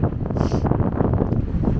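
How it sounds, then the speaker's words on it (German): Strong gusty wind blasts across a mountain, buffeting the microphone with a loud, rumbling, continuous roar and no voices. "Aber auch ordentlich windig."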